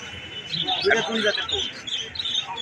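Pigeons at a large pigeon market in Khalishpur, Khulna chirp and flutter faintly in the background while someone talks over them.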